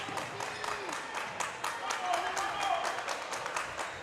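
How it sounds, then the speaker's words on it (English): Home crowd at a high school basketball game cheering and rising in volume, a broad roar with scattered claps and rhythmic bursts, under continuous talk. "This Chieftain crowd trying to get loud"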